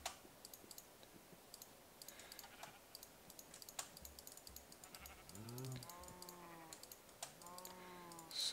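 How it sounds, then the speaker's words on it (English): Sheep bleat several times in the Minecraft video game, short wavering cries that come in a couple of bursts toward the end over quiet keyboard typing and mouse clicks, with no talking. "I don't want to have this annoying sheep sounds and cow sounds all day."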